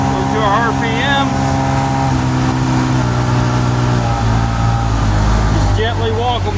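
A truck engine runs loud and steady with the PTO engaged to drive the blower for unloading a pneumatic trailer, its pitch sliding down as revs are eased off, with a voice speaking over it.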